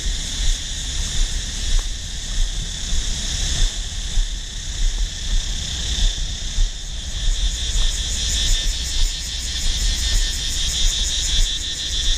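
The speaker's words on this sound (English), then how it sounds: "The sound that you hear right now is cicadas." Loud, continuous buzzing drone of cicadas near a waterfall in Dai Loc, Da Nang, Vietnam, steady high-pitched shrilling that pulses slightly and swells toward the end, with no voices.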